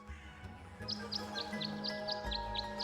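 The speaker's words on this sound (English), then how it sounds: "The birds seem to like it. They're even singing a little tune." Birds at a bird bath in Tangle Tower sing a short tune of about nine evenly spaced high chirps over a soft ambient game music bed.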